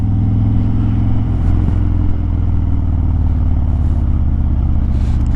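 A big old cruiser motorcycle rumbles along a rough, frosty inland road, its loud engine drone steady and close throughout, with wind and road noise layered over the low throb.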